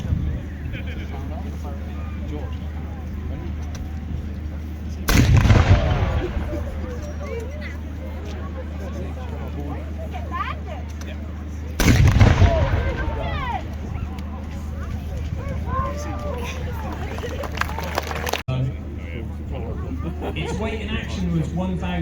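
A WWII 2-pounder anti-tank gun fires two loud sharp blasts several seconds apart at an outdoor Bovington tank event, with a crowd murmuring and a commentator talking throughout.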